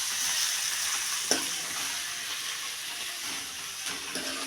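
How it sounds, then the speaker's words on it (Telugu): Onion paste fries in oil with a steady close sizzle and bubbling, broken by a few soft scrapes and taps of stirring, and no voices. "ఉల్లిగడ్డ పేస్ట్ అయితే బాగుంటుందా? ఇలా వేగుతుంది కదా"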